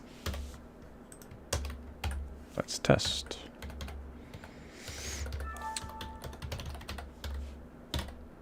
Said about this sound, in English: I'm still getting used to this keyboard.